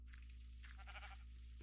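Sheep bleat in a farming video game built around raising livestock, a couple of short, wavering baas over a steady low game hum, with no talk.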